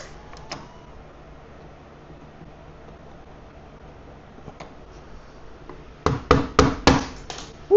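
A hammer tapping a screwdriver to punch out a rivet on a Foxbody Mustang exterior door handle, heard as five sharp, close metallic strikes in quick succession after a mostly quiet stretch with a few faint ticks.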